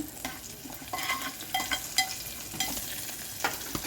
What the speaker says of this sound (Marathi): आणि कढीपत्ता फिरवून घ्या